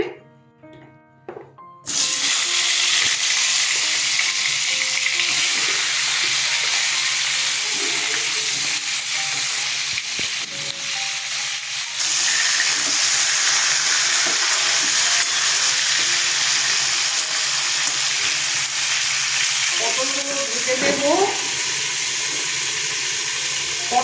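Pointed gourd pieces dropped into hot oil in a pan, a sudden loud burst of frying that settles into a steady close sizzle with occasional stirring scrapes.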